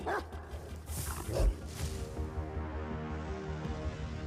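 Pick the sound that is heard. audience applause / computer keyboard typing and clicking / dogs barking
dogs barking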